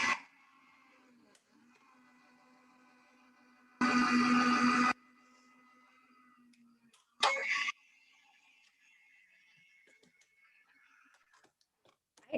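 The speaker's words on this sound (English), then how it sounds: "pardon the noise while I run this through my machine" A die-cutting machine feeding a card panel through, heard as a loud grinding roar lasting about a second followed by a shorter burst a few seconds later, with quiet rustling in between.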